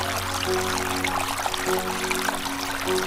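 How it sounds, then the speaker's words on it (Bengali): Running water pours and splashes steadily as coriander leaves are washed in a kitchen, a close continuous stream with a faint hum underneath and no talk. "ধনিয়া পাতাও আমি সুন্দর করে ধুয়ে লইতেছি"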